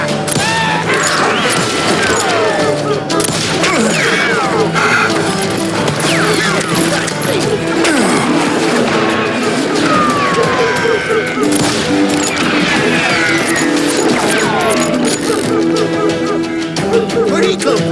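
Gunfire in a Wild West shootout from Call of Juarez: Gunslinger, with repeated shots and bursts crackling steadily over a dense, loud game soundscape for the whole stretch.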